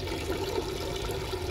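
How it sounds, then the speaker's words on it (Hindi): Water runs and splashes steadily as goat trotters are rinsed clean, a continuous close wash of liquid with no pauses and no talk. "पाए को साफ धो लेना, अच्छा 3-4 पानी से साफ धो लेना"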